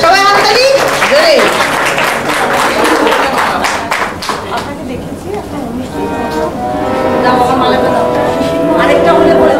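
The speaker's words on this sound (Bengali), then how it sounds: "হাততালি জোরে।" An audience applauds during a garlanding ceremony at a Bengali music gathering, a dense spell of clapping with loud voices talking over it.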